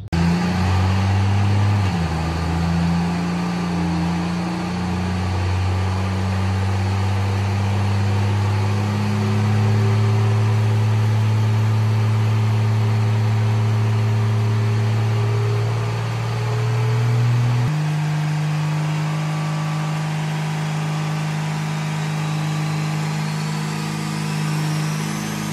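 A compound-turbo pulling truck of about 1,300 horsepower at a sled pull runs at a steady, heavy drone that dips in pitch early on and shifts lower near the end, with no voices over it.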